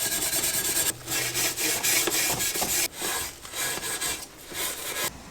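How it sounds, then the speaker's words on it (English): Wire wool scrubs hard against a dirt jump bike frame, a dense, continuous abrasive rasp in quick back-and-forth strokes, close and loud with brief pauses between bursts. "After a bit of elbow grease with wire wool,"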